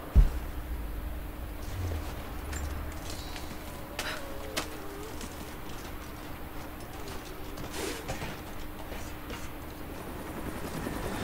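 A helicopter in the video game Rise of the Tomb Raider drones steadily at a distance with a low rotor hum, joined by a few scattered clicks and thumps; no talking.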